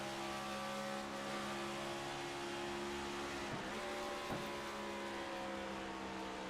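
A race car engine drones steadily in the Sim500 racing game, holding a constant pitch, then dips and recovers briefly as the car slows under engine braking, continuous and mid-level with no talking.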